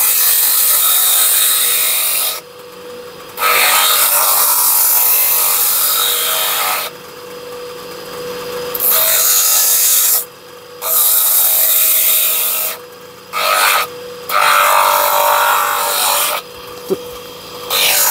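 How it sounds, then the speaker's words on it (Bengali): A power grinder shapes the teeth of a horn comb, with loud, harsh rasping bursts broken by short pauses as the piece is lifted away and pressed back to the wheel. "এইভাবে গ্রাইন্ডিং করে কিন্তু চিরুনির দাঁতের মাথাগুলো সরু করা হয়"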